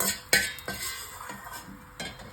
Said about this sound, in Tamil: இப்போ இதையும் எடுத்து நம்ம இந்த பிளேட்லேயே சேர்த்துக்கலாம்